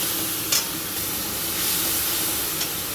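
Spice paste sizzling steadily in a hot pan while being sautéed for a catla fish curry with potato and drumstick, a continuous bright hiss with a couple of brief louder spits, no talk.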